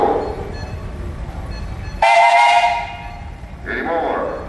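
A steam traction engine whistle at a parade blows one loud, steady blast of about a second and a half, rising over a background of outdoor crowd and engine rumble.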